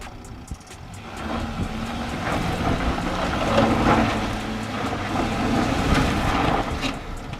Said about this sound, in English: the Jeep stopped again, skidding with unloaded wheels